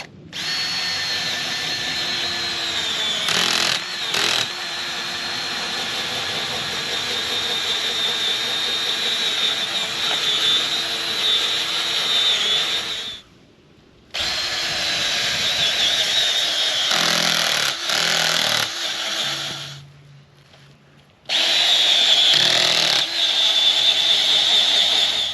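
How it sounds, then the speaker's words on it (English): A powered earth auger bores holes through sod-covered ground, its steady high motor whine running in long stretches broken by brief stops, then starting up again loud and close. "I'm going to start boring out some of these holes with my auger"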